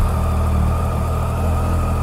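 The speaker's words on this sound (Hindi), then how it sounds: "अभी बाइक स्टार्ट करेंगे" A heavy touring motorcycle engine idles steadily, a low continuous rumble with a faint mechanical vibration, close and unbroken, with no voices.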